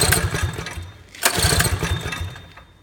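A Predator 212 small engine fitted with a Tillotson carburetor is pull-started, giving two bursts of rapid, rough chugging close by, each fading as the engine fails to catch.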